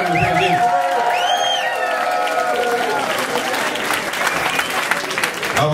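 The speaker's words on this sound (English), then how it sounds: "So how about a big round of applause for yourself for surviving the pandemic?" A concert audience at a live blues show claps in a sustained burst of applause with scattered whistles and cheers. Its volume is fairly even and fades slightly toward the end.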